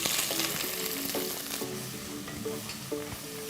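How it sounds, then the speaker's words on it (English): Thinly sliced onions fry in oil with cinnamon, star anise, cardamom, cloves and bay leaves, giving a loud, continuous sizzle up close, punctuated by regular clinks and scrapes of stirring. "Saute the onions till they are golden brown in color."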